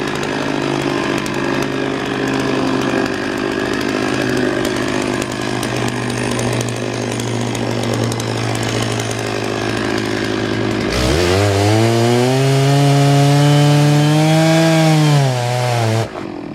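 A chainsaw with a 3-foot bar cutting through wood, a steady loud buzzing drone that suddenly revs higher and whines as the cut finishes, then cuts off at the end, with no talk.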